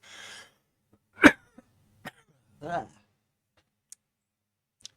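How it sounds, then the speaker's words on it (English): One sharp, close cough stands out amid near silence, followed by a throaty rasp and a few soft clicks. "I got a cough."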